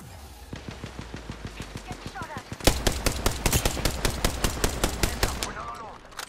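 Rapid bursts of automatic gunfire in the Apex Legends Mirage Arena mode, steady and loud, picking up and becoming more intense midway, with a few short gaps and a voice briefly talking over it.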